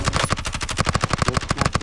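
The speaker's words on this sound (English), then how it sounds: "They're sniping." Rapid, evenly spaced gunfire in the video game Warzone crackles nonstop through the whole stretch, a dense and loud volley of sharp repeated shots with no voices over it.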